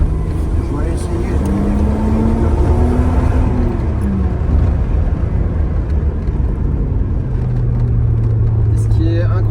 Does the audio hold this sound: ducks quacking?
no